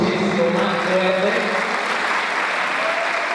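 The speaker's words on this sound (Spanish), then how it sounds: "Creo que se merece un aplauso muchísimo más fuerte." A crowd at a community cultural night claps steadily in dense, continuous applause that carries through the whole stretch without pause.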